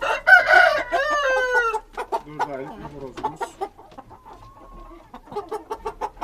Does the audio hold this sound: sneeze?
no